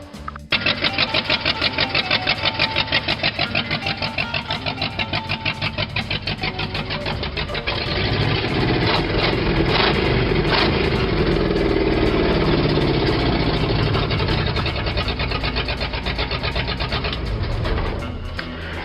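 A 1975 Ford F100 truck engine runs with only exhaust manifolds fitted, a loud, raw, rapid pulsing idle that starts abruptly, then shifts to a rougher, fuller roar partway through before settling.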